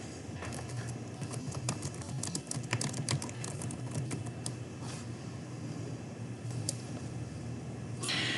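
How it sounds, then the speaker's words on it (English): Steady clicking keystrokes on a computer keyboard as a forum post is typed, a rapid irregular patter of taps over a constant low room hum, with no voices. "you'll just type in whatever you have to ask or whatever your comment is, and then just hit create post"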